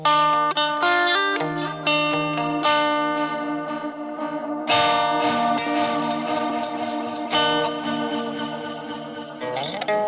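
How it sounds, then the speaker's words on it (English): Electric guitar run through a Boss DD-500 delay pedal set to its Space Echo tape-delay model, with chords and notes trailing into warm, degrading echo repeats; loud, continuous and without talk. "So I believe right now we're hearing Space Echo, and I think the other one is an Echo Rec."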